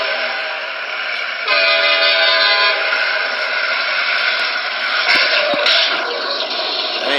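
A train horn sounds loud and sustained at a railroad crossing as the train approaches, a long blast that swells midway and holds for several seconds, with engine rumble beneath.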